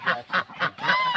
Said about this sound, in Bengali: এই হাঁসগুলো তো এবছর মস্ত বড় বড় হাঁস